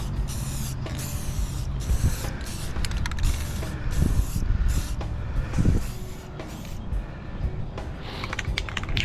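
Metal is spray painted outdoors in gusty wind, with repeated loud hissing bursts from the can, separated by short pauses, over a rough, blustery background.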